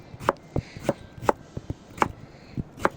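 A knife cuts through butternut squash on a cutting board, about a dozen sharp, close chops in an uneven rhythm, with no talking.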